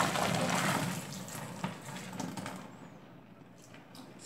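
Seven litres of water pour into a homemade bleach mixture made with caustic soda, a broad steady gushing and splashing that gradually thins and quiets toward the end.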